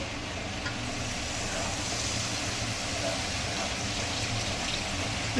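Duck meat going into a well-fried spice paste and being stirred, giving a steady, close sizzle with a continuous frying hiss and no talk throughout.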